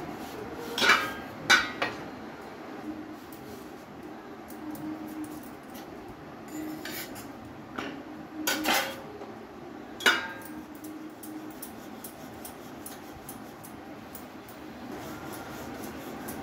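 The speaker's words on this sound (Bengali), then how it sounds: "তাওয়াটা গরম হয়ে গেছে, এই দেখুন রুটি আমি দিয়ে দিলাম তাওয়ায়।" A barley flour roti is set down on a hot tawa in a home kitchen, giving a few light clinks and taps of utensils against the pan over a quiet, faintly sizzling background, close and soft, with no speech.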